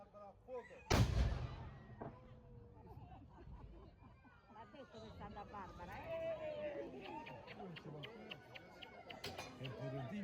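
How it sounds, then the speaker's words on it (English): Noon cannon on Janiculum Hill in Rome fires a blank charge, one sharp loud boom that rings out and decays, followed by a crowd murmuring and chattering in the open air. "exactly at noon, he triggers the mechanism to let out that iconic blast"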